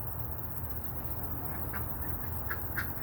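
Ducks in a backyard duck yard give a few short quacks partway through, faint against a steady outdoor hiss.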